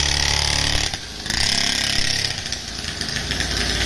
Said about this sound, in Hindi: ये देखो भाई साहब जीशान अपने डर्ट बाइक से ड्रिफ्ट मारने जा रहे हैं।